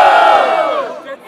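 Crowd at a street rap battle in São Gonçalo roaring and shouting with raised energy, a dense loud wave of voices that swells then tapers slightly, with a brief dip near the end.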